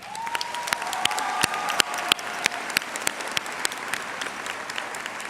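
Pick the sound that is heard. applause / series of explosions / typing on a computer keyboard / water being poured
applause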